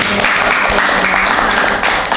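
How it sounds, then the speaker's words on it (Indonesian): Applause from an audience at a kindergarten foundation event in Jambi, a dense steady wash of clapping filling the whole short stretch at even loudness. "tepuk tangan dong semuanya"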